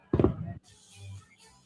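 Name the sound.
fireworks show exploding in the sky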